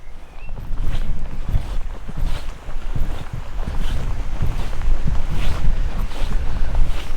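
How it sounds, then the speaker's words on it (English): Chilly wind gusts across open moorland, buffeting the microphone in loud, uneven rushes with faint footsteps beneath. "Chilly wind."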